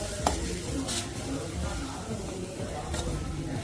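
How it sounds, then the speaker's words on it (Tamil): Capsicum, cabbage and carrot sautéing in ghee, a steady close sizzle with scraping stirs from a spatula and a few sharper clinks against the pan, no voices. "நான் கீ சேர்த்துட்டு நான் எல்லா வெஜ்ஜீஸையும் அதில் போட்டு நான் வந்து இப்போ அதை வந்து சாட் பண்ண போகிறேன்."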